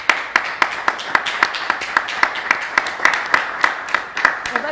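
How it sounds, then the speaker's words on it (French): An audience applauds the guests of the day on a youth talk show, with close, crisp individual claps in a fairly regular rhythm over a lighter bed of clapping, steady for several seconds. "Je vous demande d'applaudir bien fort les invités du jour"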